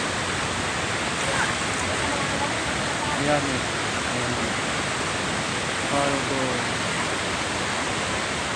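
Curug Dua waterfall on Gunung Parentas in Indonesia pours as a constant, loud rushing hiss close by, with brief talk from a person audible over it.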